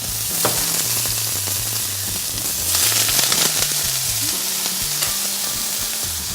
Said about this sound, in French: Donc la poêle ferme. On va déposer l'agneau dedans.